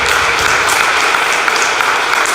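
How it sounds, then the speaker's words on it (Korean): A church congregation in Paris applauds to congratulate people being baptized: dense, continuous, loud clapping from many hands filling the room, sustained throughout with no speech over it. "우리 축하의 박수 또 감사의 박수 한번 드리도록 하겠습니다"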